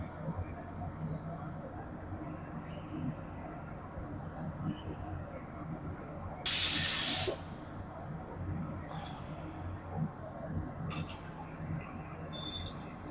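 Cashews hit hot oil with a sudden loud sizzle that lasts about a second while being tempered for payasam, amid low kitchen background noise.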